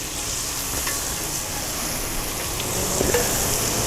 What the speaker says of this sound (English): got some butter here. We'll put that butter in there. Get this swirling around in there.